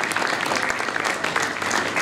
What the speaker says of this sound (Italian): la signora Silvana Veronà, a cui dedicherei un applauso, per favore